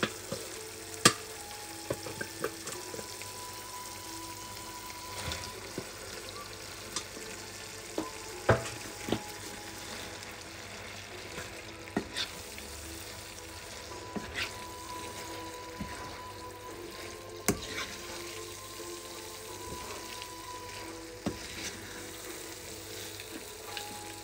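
Pasta hits a pan of pink vegetarian sauce, a steady close sizzle and bubbling frying sound with occasional stirring clatter and scraping of a utensil against the pan throughout.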